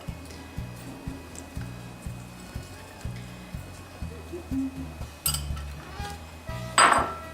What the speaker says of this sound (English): I'll keep whisking for you.